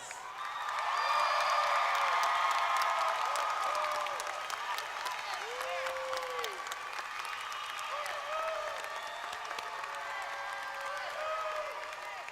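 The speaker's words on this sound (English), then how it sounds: "Can we please give them another round of applause?" Graduates at a 2023 K-12 virtual school graduation ceremony receive a long round of crowd applause, loud at first with scattered whoops and cheers, then settling into steady clapping over a faint tonal background.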